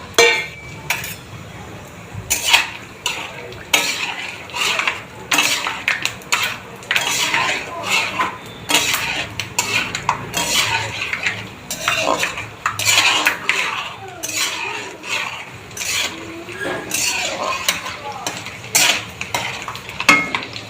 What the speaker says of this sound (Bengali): চলো আমি প্রথমে বাদামটা ভেজে নিই